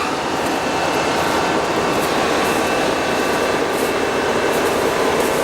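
A diesel train rolls along the Andalsnes-Bjorli railway in Norway, giving a steady, loud broadband rumble and hiss with faint rhythmic rail noise throughout, no voices.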